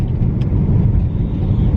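A car rolls out of a hospital car park with a steady low engine rumble and road noise heard from inside the cabin, continuous and fairly loud, with no talking.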